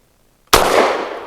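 A single sharp, loud report from a Walther PDP F pistol fired with a softer load, starting abruptly and trailing into a brief decaying echo after a moment of near silence.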